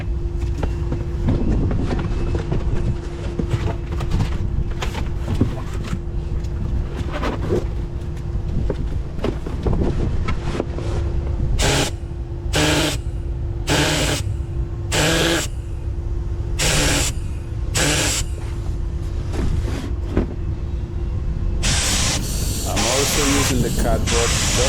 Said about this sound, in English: as you could see, there is no overspray with this Fuji gun